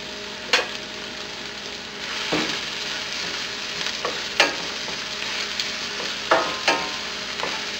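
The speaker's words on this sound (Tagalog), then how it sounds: "Now, turn on lang natin yung heat at papainitin natin yung olive oil. And kapag mainit na, ilalagay na natin yung minced onions" Minced onions frying in hot olive oil, a continuous gentle sizzle with a few scattered stirring scrapes and taps of a utensil in the pan, no speech.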